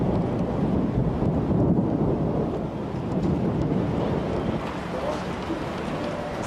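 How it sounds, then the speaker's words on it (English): A thunderstorm with torrential high-veld rain lashes the Kyalami race track, a dense, continuous roar of rain and wind noise buffeting the microphone with low rumbling throughout, no clear talk. "thunderstorms and torrential high-veld rain causes postponement to the start of the race"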